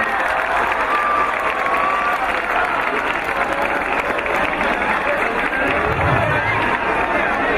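Crowd applause welcoming a guest at a school spiritual gathering in Udaipur, steady dense clapping throughout mixed with crowd noise and some cheering.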